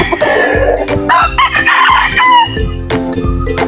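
Native chickens on a hot farm morning, with a rooster crowing loudly and close several times in a row among clucking hens, no talk.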